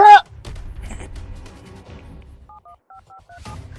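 Telephone keypad dialing tones, a row of short evenly spaced beeps of varying pitch in a quiet room after a brief loud knock.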